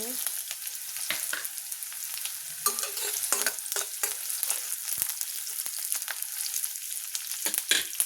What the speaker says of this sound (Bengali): এইবার আমি গোটা জিরে দিয়ে দিব।